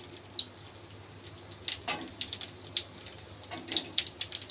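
Whole cumin seeds sizzle and crackle in hot oil, giving soft, close, irregular pops and spits over a low, steady frying hiss.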